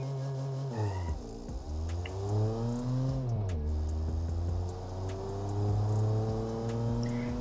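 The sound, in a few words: milk van car accelerating in BeamNG video game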